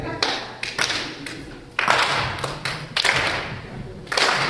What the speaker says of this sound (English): What I need you to do is just clap your hands.